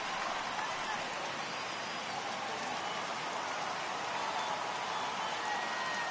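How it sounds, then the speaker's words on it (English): Steady, dense rain falls during a baseball game, an even hiss of drops that holds constant and fairly loud from start to finish with no voices. "the rain starting to intensify here. It's coming down a little heavier now."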